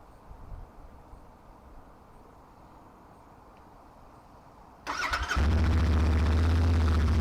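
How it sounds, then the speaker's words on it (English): A motorcycle engine cranks, catches and roars to life, then settles into a loud, steady idle close by after a stretch of quiet background. "we're just going to fire the bike up for no particularly good reason other than I like to hear it running"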